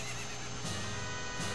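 Phantom Ganon's horse in the Zelda: Ocarina of Time video game gives a loud, close whinny that rises and falls over a steady game music bed, with a second neigh near the end.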